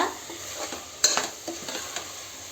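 Egg bhurji for egg biryani stirred in a hot pan, a steady soft sizzle under repeated scraping strokes of a spoon, with one sharper clatter partway through; close by, no voices.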